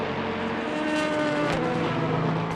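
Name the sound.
Le Mans race cars exiting a turn, Portimao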